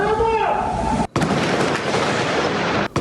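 Loud, dense crackling blasts and bursts of explosions and gunshots as robbers blow up ATMs fill the scene, with a brief sharp cutout partway through; voices are faintly present underneath the continuous roar.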